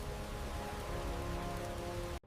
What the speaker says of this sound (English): Time to step back into the rain.